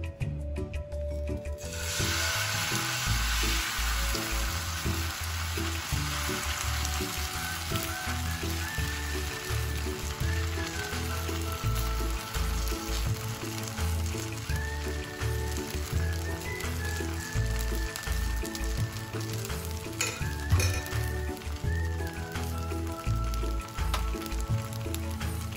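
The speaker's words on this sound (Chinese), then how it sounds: "记得中低火慢煎，加上适量的油。" Flour cake batter pan-fries slowly in oil over medium-low heat, a continuous close sizzle with rubbing, scraping spatula strokes throughout and occasional faint tonal whines, no talking.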